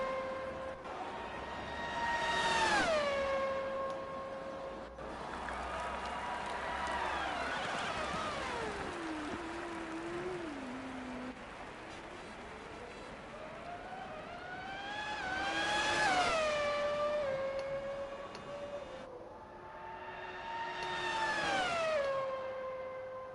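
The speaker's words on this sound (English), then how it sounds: "you can listen to the alarms and the cars going round this beautiful track" Classic race cars roar past on a racing video game track during qualifying, with rising and falling engine notes sweeping by in loud passes, a steady alarm-like wail between them, and no talking.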